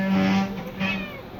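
A domestic cat meows twice up close, a short tonal cry followed by a second softer one, with quiet room background.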